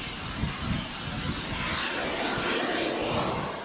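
A Banshee training drone flies overhead during a military air defense drill in San Antonio, Zambales, giving a continuous broad engine roar with wind noise, fairly loud and steady throughout.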